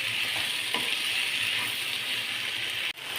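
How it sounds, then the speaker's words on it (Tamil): Tomato, onion and cashews sautéing in a pan for a paneer gravy, a steady close hiss and sizzle with faint scraping stirs, cut by a brief dip near the end. "இப்போ நம்ம நல்லா கொஞ்சம் தக்காளியும் வெங்காயமும் சேர்த்து முந்திரியெல்லாம் நல்லா வதக்கிக்கலாம்."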